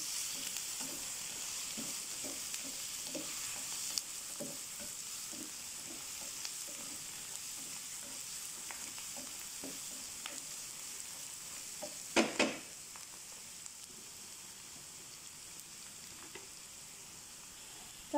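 Garlic fries quietly in a pan with a soft, steady sizzle, broken by small stirring clicks and a brief louder clatter near the middle.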